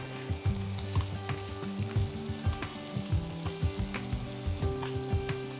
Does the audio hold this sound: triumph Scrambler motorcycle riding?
no